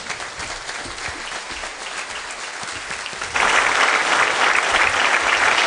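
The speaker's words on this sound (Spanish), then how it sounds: "Al pueblo huilense, les pido que una vez más, de pie, le demos un aplauso" A large standing audience at a tribute event for a Colombian senator in Huila claps in sustained, dense applause that swells louder partway through, with no speech over it.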